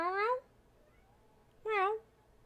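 Two drawn-out meows, about a second and a half apart, sound clear and close, most likely a person's voice imitating a cat during a tabletop role-playing game session.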